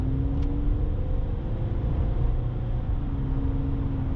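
A used flip car drives steadily while the transmission shifts up through first, second and third gears, a continuous close engine and road drone with a faint tonal hum and no talking.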